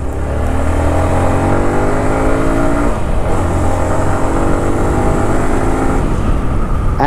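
Runner Knight Rider V2 150cc semi-racing motorcycle engine while riding, a steady loud drone with rising revs and a gear change midway, close to the rider, no talk.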